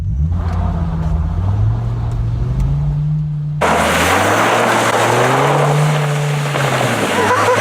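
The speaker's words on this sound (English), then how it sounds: "I'm going to slam on the gas pedal and just see how the Viper handles." Dodge Viper accelerating flat out, engine revving loud with rising and falling pitch through gear changes, and a sharp shift to a harsher, noisier roar midway.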